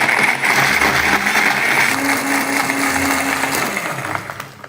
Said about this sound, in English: we're gonna blend this up in the NutriBullet